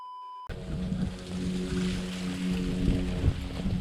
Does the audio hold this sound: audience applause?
no